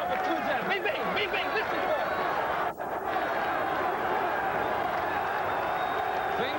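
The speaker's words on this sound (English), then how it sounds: "The crowd really getting into this one." Boxing arena crowd during a Holmes versus Mercer heavyweight fight, a steady roar of cheering and chatter with scattered claps, held at an even level throughout, with a voice briefly audible in the mix.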